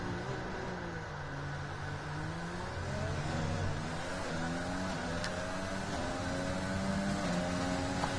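Red Bull racing cars in a racing video game, engines droning steadily with rising and shifting pitch as they accelerate through gears, a continuous loud roar with overlapping cars.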